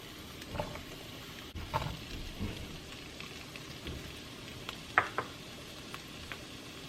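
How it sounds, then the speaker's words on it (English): Peppers and mangoes sautéing in olive oil in a pot for a Caribbean sauce make a crackling, spattering sizzle, with a few louder pops and spoon knocks now and then and no talking. "We're going to saute the peppers and the mangoes."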